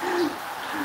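Birds calling outside during a rainy day: a soft, low cooing hoot, like a dove or owl, over a steady wash of background noise in a short burst.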